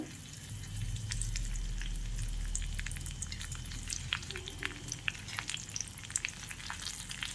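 Coriander seeds, curry leaves and spices frying in hot oil in a pan, giving a steady close sizzle with scattered crackles and pops throughout, no voices.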